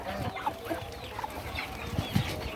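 Chickens and a duck at feeding time on a small farm give several short, scattered clucks and squawks, close by, amid busy background noise.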